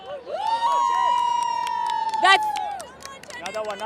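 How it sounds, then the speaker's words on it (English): Cricket supporters backing Chennai raise a cheer led by one long, high, sustained yell, then break into scattered shouts and whoops from the crowd. "Let's hear a cheer."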